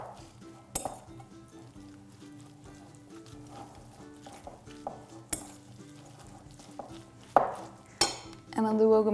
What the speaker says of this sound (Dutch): Mengen we even goed door elkaar.